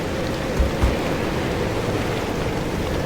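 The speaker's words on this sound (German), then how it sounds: "es wird windig" Wind blowing in the Pacific Drive game, a steady broad rushing hiss with no clear gusts, constant in level with a couple of faint low thumps near the start.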